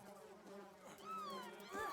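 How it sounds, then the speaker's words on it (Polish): Flies buzzing in the video game Just Die Already: a steady insect drone with wavering, swooping whines as they circle close, fairly quiet, with faint voices murmuring underneath. "Muchy jakieś w ogóle."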